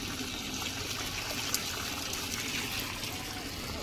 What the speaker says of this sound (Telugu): ఫ్రెండ్స్ ఈ విధంగా ఫ్రెష్గా చికెన్ కడుక్కున్నాం.